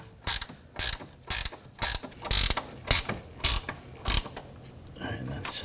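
A ratchet wrench snugs a rear suspension bolt on a 2013-2019 Ford Escape, giving about eight crisp, evenly spaced clicking strokes up close before falling quiet.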